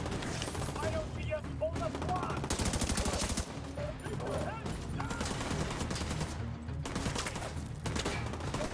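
Blind fire from cover in The Division 2, with rapid bursts of automatic gunfire in rattling volleys separated by short pauses, a player's voice talking now and then over the shooting.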